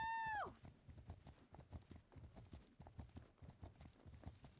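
Horse hooves clip-clop in a steady, rapid, even rhythm in the game Legend of Khiimori, fairly quiet, following a brief tonal whistle at the start.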